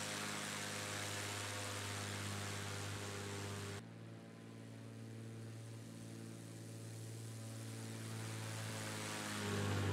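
The engine of a simulated Piper Warrior propeller airplane in X-Plane 11 drones steadily and loudly, with a low buzzing propeller tone that shifts slightly partway through.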